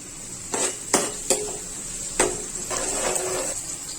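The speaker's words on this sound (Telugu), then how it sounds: "ఉల్లిపాయలు గోల్డ్ బ్రౌన్ వచ్చేంత వరకు వేయించుకున్నాము" Chopped onions and green chillies fry in a pan: a soft steady sizzle runs under a few sharp spoon scrapes and taps, close by, with no speech.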